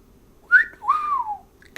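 A person whistles in imitation of an admiring whistle: a short rising note, then a longer sliding tone that falls away, heard clearly with no other sound around it.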